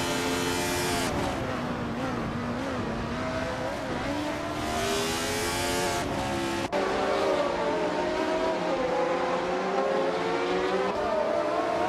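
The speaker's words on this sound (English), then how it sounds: "Nuts is driving the NCM 176, starting in 2nd place" Race car engine in a racing video game, the NCM 176 car, droning steadily with rising and falling revs through gear changes across the whole stretch, loud and continuous with a brief tire or shift blip midway.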